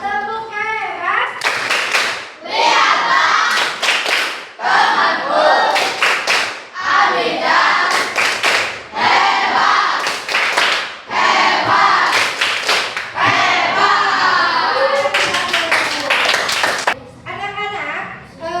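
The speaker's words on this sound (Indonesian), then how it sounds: "Kita kasih tepuk hebat untuk Abijah." A class of primary school children does a 'tepuk hebat' rhythmic group clap for a pupil, loud bursts of patterned clapping repeating through the stretch with children's voices and shouts mixed in.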